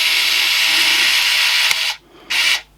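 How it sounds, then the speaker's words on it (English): A power drill drives screws into a battery charger during an input repair, a loud steady whir running about two seconds, cutting out briefly, then one more short burst before stopping. "I'm going to screw these in tight"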